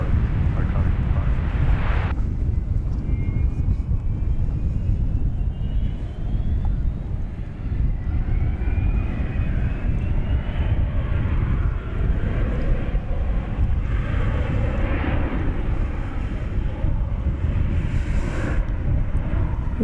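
An airliner takes off from runway 18 Left at DFW Airport, its engines a loud, steady broadband roar with wind buffeting throughout and a faint rising whine, while a voice talks over it.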